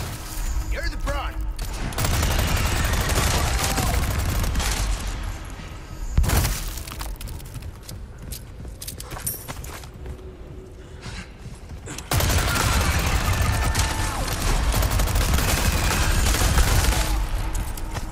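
Sustained rapid gunfire from Resident Evil 4 Remake, dense volleys of shots with breaking and shattering debris, loud and near, easing to a lighter patch midway before another long heavy burst.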